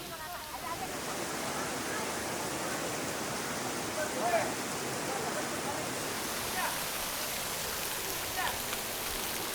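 Steady broadband rush of falling water at Baturiti waterfall, Parigi, Indonesia, continuous and fairly loud, heard close by with no breaks.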